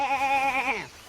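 A sheep named Ilse in a garden gives one long, wavering bleat, close and clear, tapering off as it ends, with no other voices.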